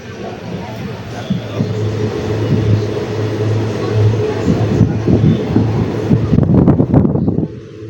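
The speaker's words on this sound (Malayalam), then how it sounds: "ഈ ട്രെയിൻ നാഗർകോവിൽ ജംഗ്ഷൻ റെയിൽവേ സ്റ്റേഷനിൽ കയറില്ല" A passenger train running along the track toward Nagercoil, a steady loud rumble and rattle of wagons with a low droning hum, growing rougher and clattering near the end before cutting out.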